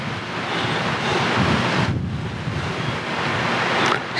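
Strong wind roars steadily against the microphone, a loud continuous rushing with a brief dip midway, no voices.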